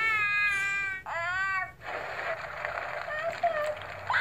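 Baby Jack-Jack toy from The Incredibles 2 letting out loud electronic cries and squeals, a rising harmonic wail that breaks into a second sharp outburst, then gives way to noisy, crackly babble.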